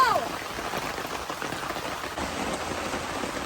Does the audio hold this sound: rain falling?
yes